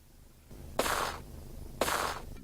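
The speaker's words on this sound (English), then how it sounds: "Several gunshots ring out close by." Two loud gunshots go off about a second apart in the video game Laura Bow: The Dagger of Amon Ra, each with a booming, rumbling tail, against a low background hum.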